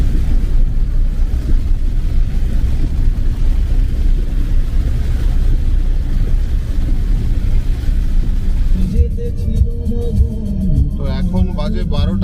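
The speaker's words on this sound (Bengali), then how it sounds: "আমি হ্যাজার্ড মেরে গাড়িটা চালাচ্ছি" Car driving with hazard lights on through heavy rain on a hilly forest road, a steady loud wash of rain and road rumble throughout, with a brief higher-pitched chirping voice-like sound near the end.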